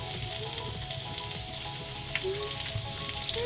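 Oil warms in a pan for frying tomatoes, producing a faint, steady, even sizzle with a few small pops, quiet and close, with no talking.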